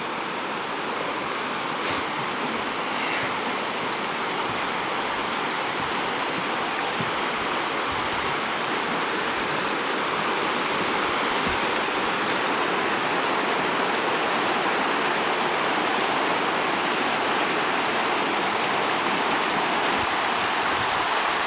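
A continuous roar of a waterfall and a rushing stream near Lake Lácar, San Martín de los Andes, Argentina, steady and full, with no voices.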